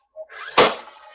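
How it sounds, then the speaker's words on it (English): A nail gun firing a nail into shiplap boards, one sharp loud pneumatic crack up close, preceded by a faint click and followed by a short ringing tail. "By shooting a nail through it, you're going to keep it down there."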